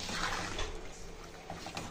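Soaked rice tipped into a pot of boiling water for chicken biryani, with a steady bubbling, watery wash close by and no talk.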